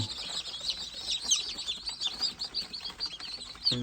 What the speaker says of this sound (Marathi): हे बघा ही कोंबडी आहे